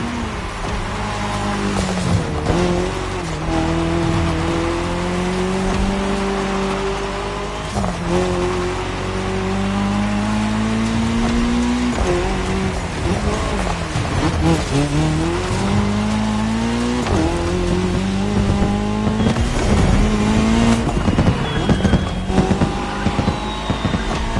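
A Ferrari 488 GT3 races through a cross-terrain event in The Crew Motorfest. Its engine note rises and falls with gear shifts, and tire squeal comes through now and then, loud and continuous with no voices.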